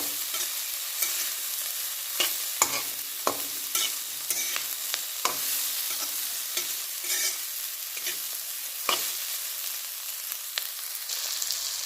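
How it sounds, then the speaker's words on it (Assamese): Potatoes and soya chunks fry in a pan of oil with a steady sizzle and frequent sharp clinks and scrapes from stirring, close by and free of speech. "এনেদৰে 5 মিনিটমান সময় তেলতে ভাজি ল'ম।"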